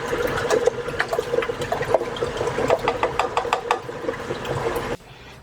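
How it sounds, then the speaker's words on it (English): Electric mixer beating eggs and milk into yellow cake mix batter for cranberry orange cupcakes, a steady whirring motor hum with wet sloshing and clicking that cuts off abruptly near the end. "Put your eggs in your mixer and mix until they're well combined."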